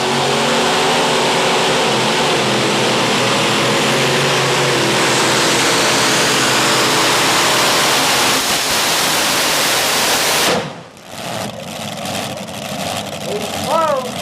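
A 575 cubic inch modified pulling tractor roars at a dirt-track tractor pull, a loud sustained engine howl mixed with crowd wash that cuts off abruptly near the end, leaving quieter ambient noise behind.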